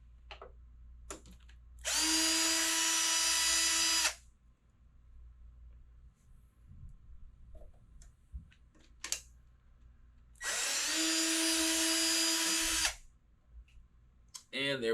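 Power driver whirring twice in long bursts of about two seconds each while removing a screw from a Pride Victory mobility scooter cover, with small clicks and handling noises in between, fairly close and clear.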